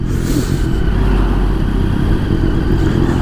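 A motorcycle rides along a road on a warm day, its engine a steady low rumble mixed with wind noise that stays constant and close throughout the few seconds, with no talk.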